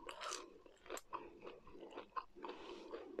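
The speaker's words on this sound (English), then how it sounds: "I'm gonna eat an onion ring first." Crunchy fried onion ring being bitten and chewed up close, a series of crisp crunches in an uneven rhythm, with no talking.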